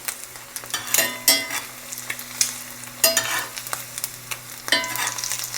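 Egg frying in a hot pan with the white being spread and worked, a soft continuous sizzle broken by repeated sharp scraping strokes of a utensil at irregular intervals, close and without talk.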